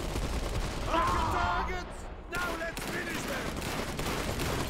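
Machine gun fire in the video game Iron Harvest, rapid bursts of gunshots with a brief lull midway before the firing resumes, under battle noise.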